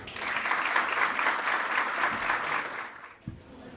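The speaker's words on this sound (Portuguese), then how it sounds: "peço os aplausos dos presentes" An audience at an anti-corruption law event applauds a speaker invited to the stage, a steady, moderately loud burst of clapping that cuts off sharply near the end, followed by a brief knock.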